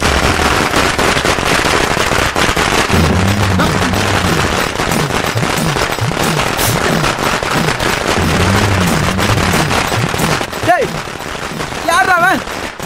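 Firecrackers bursting in a scene from a Tamil TV serial, a loud, continuous crackling barrage of rapid pops running through the whole stretch, with voices and music beneath.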